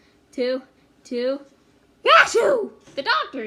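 A voice reading a children's story about a trip to the doctor imitates a big sneeze: two drawn-out rising breaths, then a loud burst, followed by more speech.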